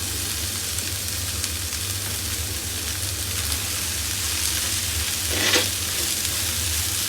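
Chicken liver, gizzards and mushrooms sizzle steadily in a pan while pancit guisado is cooked, a continuous close frying hiss with a brief louder burst of spitting near the end.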